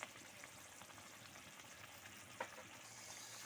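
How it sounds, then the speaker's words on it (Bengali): Spice paste being sautéed in a pan for Bengali doi chicken, with coriander powder just added: a steady, fairly quiet sizzle and frying hiss running throughout, with light stirring scrapes and one brief sharper click partway through. "মশলাটা আমি খুব ভালো করে কষিয়ে নেব"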